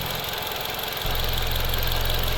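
Toyota Camry 2.5 petrol/LPG engine idling with the bay open, a steady close mechanical rumble that shifts to a denser, even drone partway through.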